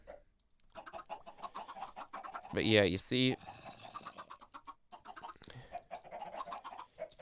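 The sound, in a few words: chickens clucking in a chicken farm, from the video game Minecraft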